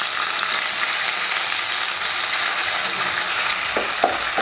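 Long-sliced onions frying in oil with popped mustard seeds and cumin, a steady close hiss with a couple of faint stirring clinks near the end; no talk.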